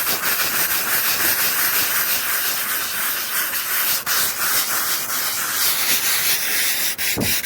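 Steady, harsh abrasive hiss of sanding on a rusty, pitted car body panel, continuous and loud throughout, with a couple of brief breaks in the stroke.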